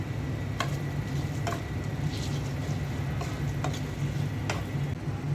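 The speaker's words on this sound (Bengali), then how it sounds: "মশলার সাথে চালটা ভালো করে কষিয়ে নিব" Rice is sautéed with spices in a pot for khichuri, giving a steady soft sizzle and frying hiss, with a few faint clicks of stirring spaced through the clip.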